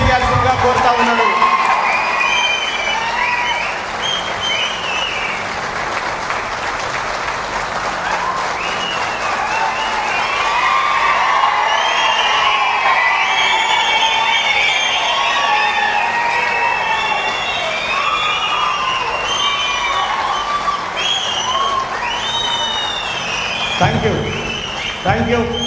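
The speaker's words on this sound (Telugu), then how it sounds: "దయచేసి చప్పట్ల ద్వారా మీ హర్షాన్ని తెలియజేయాల్సిందిగా కోరుతా ఉన్నాను" An audience applauds and cheers at a speech. The clapping is loud and sustained for nearly half a minute, with shrill whistles and whoops rising and falling over it.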